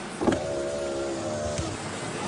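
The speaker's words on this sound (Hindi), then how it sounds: "कांच खोलिए।" A car's electric power window motor whirs steadily for about a second and a half as the glass lowers, ending with a soft stop, set against a low ambient hum inside a car stopped by a traffic officer.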